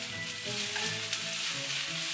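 A stir-fry of vegetables being tossed and stirred in a hot pan, with continuous loud sizzling and frying close up, no talking.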